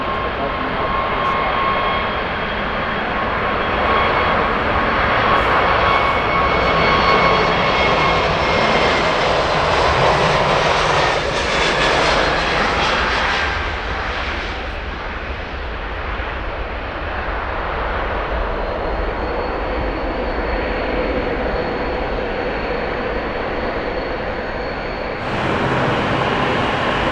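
Jet airliners taxiing and running up at Frankfurt airport, a loud continuous engine roar with shifting whine, steady broadband rumble and a brief surge near the end, close by and outdoors.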